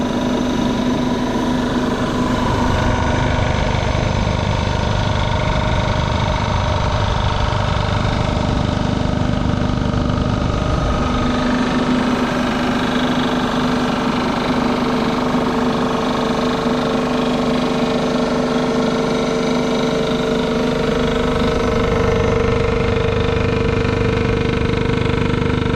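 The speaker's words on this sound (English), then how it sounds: "that just engages the motor at the back, so it's one consistent speed across the head face" A cylinder head valve seat machine's motor runs at a constant speed, making a loud, continuous whine and hum that shifts slightly in pitch partway through, with no talk.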